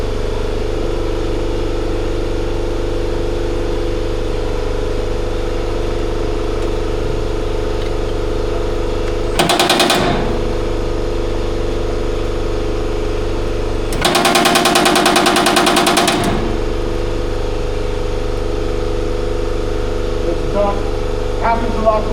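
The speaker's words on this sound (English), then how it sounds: "Happens a lot quicker on the power hammer." Baileigh power hammer shaping a metal car fender in a shop, a steady loud mechanical drone throughout with two bursts of rapid hammering, one brief and one lasting about two seconds.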